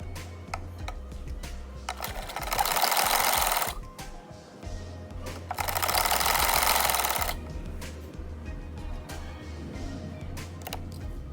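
Two sustained bursts of a sewing machine running while stitching a patti onto a kurta sleeve, each about two seconds long. A low hum and quieter handling noises fill the gaps between them. No one speaks.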